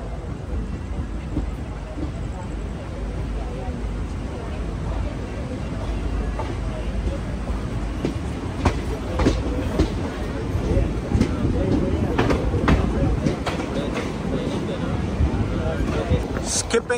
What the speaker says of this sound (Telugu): టౌన్ జంక్షన్ నుంచి అయితే మన ట్రైన్ బయలుదేరిపోయింది